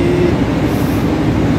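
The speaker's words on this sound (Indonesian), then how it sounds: "kereta api Matarmaja dari Malang ke Madiun dengan ekonomi new generation" Inside the Matarmaja economy new generation passenger train travelling from Malang, a steady loud low rumble of wheels and carriage noise fills the short stretch without any voices.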